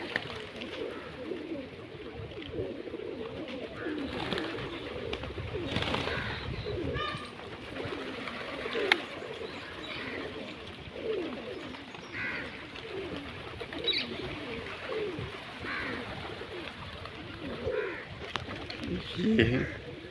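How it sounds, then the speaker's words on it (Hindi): Pigeons coo softly at a forest ashram along the Narmada, with low repeated murmuring calls blending into steady outdoor ambience while people talk nearby. "एक कबूतर ही कबूतर।"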